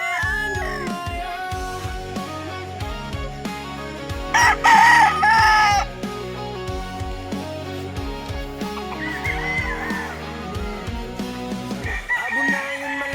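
A Hebron gamefowl rooster lets out a single strong crow partway through, cutting over steady, rhythmic background music that plays throughout.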